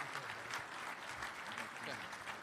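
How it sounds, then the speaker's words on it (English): Crowd applause for U.S. Army sergeant majors at a professional development forum, a steady dense clapping wash lasting throughout, with some voices mixed in underneath. "So let's give them a big round of applause for their professionalism"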